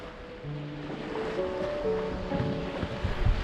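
Sailboat heading out past fish farms into open sea off Spain, with a steady wash of waves and wind, low tonal hums drifting throughout and a few louder splashes near the end; no talking.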